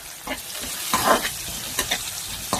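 Curry leaves crackling in hot oil with small shallots for a taro-root kara kuzhambu, a bright sizzling burst rising over steady frying noise, with a few short stirring scrapes.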